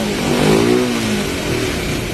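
A Rusi Turbo motorcycle engine revs up and eases down close by, a loud, rough roar that holds steady with no talking.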